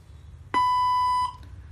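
One loud, even electronic beep from a robot language translator holds for about three-quarters of a second, then cuts off into quiet, with no speech.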